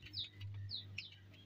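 A pet lovebird gives several quick, high, faint chirps and tweets in a quiet room, short bright calls spaced across a second or two with no talk.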